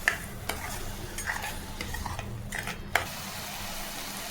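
Ground masala paste thinned with a little water fries for a fish curry, giving a soft, close sizzle broken by spoon scrapes and a sharp metallic tap against the pan.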